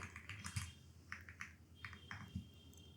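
Keys clatter on a computer keyboard in short quick bursts while a folder name is typed, soft and close with brief pauses between clusters.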